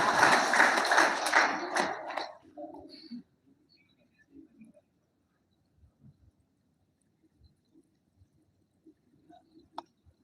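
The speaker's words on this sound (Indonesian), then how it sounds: "Ya tepuk tangan." Audience applause at a welcoming ceremony for a provincial governor, a dense burst of clapping for about two seconds that quickly fades, followed by near silence with scattered faint taps.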